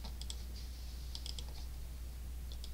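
Someone types a folder name on a computer keyboard, a few quick bursts of light clicking keystrokes over a low steady hum, close and without talk.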